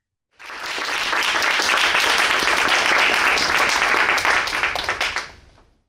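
Loud, sustained applause from an audience welcoming a university provost at a policy forum, rising sharply, holding steady for several seconds, then tapering off.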